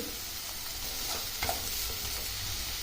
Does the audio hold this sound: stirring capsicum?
yes